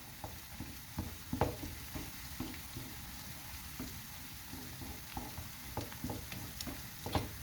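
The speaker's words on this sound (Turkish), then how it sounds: "salçayı bir 5 dakika kadar güzelce kavuruyoruz" Tomato paste sautés in a pan for lentil köfte, with a soft, low sizzle and intermittent close scrapes and taps of stirring.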